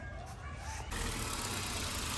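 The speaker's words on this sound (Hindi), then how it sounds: "अब गाड़ी का इंजन स्टार्ट है" A car engine idling steadily after starting, a low continuous rumble that grows louder partway through, with no talking.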